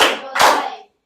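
A group of students clapping their hands during a classroom counting ice-breaker game, two quick close bursts of applause-like claps, then silence.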